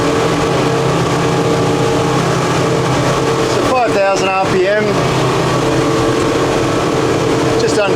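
Twin Yamaha 200 outboard engines running at 5,000 RPM on a Seaking 770W boat, a loud steady drone with a swell of rising and falling tone partway through, under wind and water rush.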